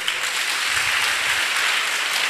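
A church congregation claps steadily, a dense wash of applause from many hands filling the space without pause.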